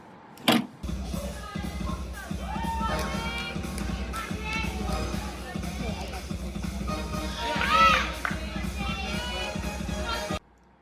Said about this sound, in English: sorry if like the cheering and the music was kind of loud